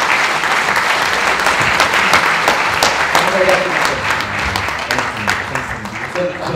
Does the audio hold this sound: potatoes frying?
no